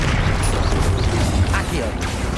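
Explosive spell blasts from Bombarda and Confringo in a Hogwarts video game, a loud continuous wash of booming impacts and crackling debris with brief whooshing effects.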